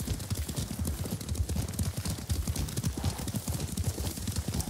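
Horse hooves clip-clop steadily while riding in the video game Ghost of Tsushima, a fast rhythmic run of close, loud hoof beats over a dense background wash.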